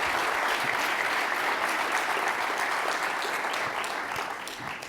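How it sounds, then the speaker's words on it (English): A large crowd at a Stanford sustainability event applauds to welcome speakers onto the stage, a dense, even roar of clapping that holds loud and steady throughout before tapering slightly near the end. "just give a warm welcome to a Stanford dad, Bill Gates, and to Thomas to come on stage"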